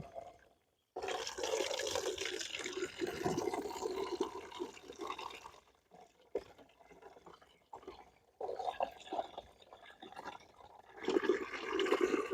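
Running water gushes steadily into a tub for watering cows, close and fairly loud, with a few brief pauses in the flow and no talking.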